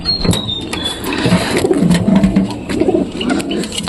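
Pigeons coo in a pigeon loft, low throaty warbling calls repeating close by, with light rustling and a brief high squeak early on.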